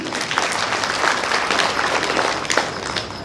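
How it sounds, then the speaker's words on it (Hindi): Audience at a Jain religious discourse clapping steadily, a dense continuous patter of many hands at moderate level with no voices, holding even throughout. "चाहिए तो ताली तो बजाना चाहिए।"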